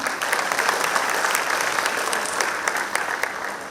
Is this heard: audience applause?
yes